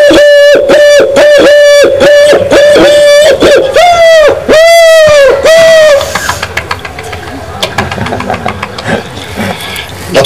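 A human voice imitates the call of a Eurasian collared dove with a series of loud, close, hooting tones in a steady rhythm. After about six seconds the calls stop and only low background noise remains.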